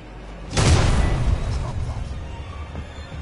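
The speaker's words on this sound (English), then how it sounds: "Got it. Immune to explosion." A loud boom of an explosion in the survival horror video game Alien: Isolation bursts in sharply and then rumbles away with a long fading tail.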